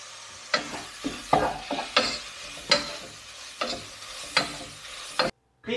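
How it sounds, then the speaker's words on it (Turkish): Minced meat dry-fried in a pot with no oil, stirred in repeated scraping, sizzling strokes at an uneven rhythm, close and clear, with no talking. "Kıymamızı tencerenin içinde yağ koymadan, hiçbir şey koymadan kavurduk gördüğünüz gibi."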